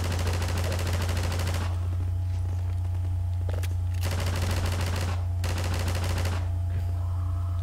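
An automated turret in Half-Life 2 unloads bursts of rapid machine-gun fire, several long rattling volleys separated by short pauses, loud and close over a constant low hum.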